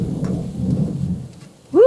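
A low distant rumble of thunder rolls on steadily over faint rain, fading near the end before a brief higher sound cuts in.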